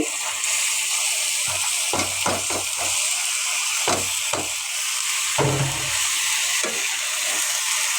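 Washed potato slices for aloo bhaji tipped into a hot pan after chilies hiss and sizzle steadily, with several dull knocks and splashes as pieces drop in and shift, close and without speech.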